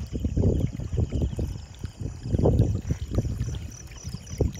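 Water drains from a flooded onion field, a steady rough rush of flowing water with uneven surges that rises and falls throughout, fairly close and with no talk.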